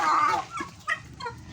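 Turkeys being fed give a few short, soft clucks and gobbling calls close by. A couple of quieter notes follow in the background.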